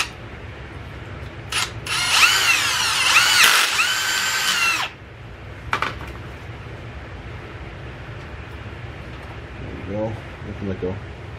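A power drill whirs loudly for a few seconds, then stops; brief mechanical clicks and rattles follow, with quiet voices nearby.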